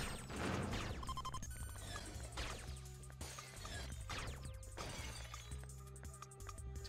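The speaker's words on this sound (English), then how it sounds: "Tommy Lee Jones does not care about broken glass" In a video game, glass smashes and breaks in a run of sharp crashes and cracks, set against layered game sound effects and a low background hum.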